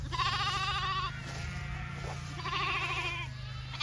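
Two drawn-out sheep bleats, near and loud, the second following after a brief gap, over a constant low background hum.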